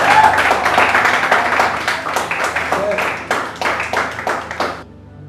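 Rhythmic clapping and cheering from a congregation at a church service, steady and fairly loud across the room before dropping off abruptly near the end.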